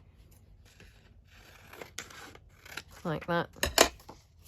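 Paper is cut with scissors in several short snips that crackle near the end, close and fairly quiet, under a few words of speech.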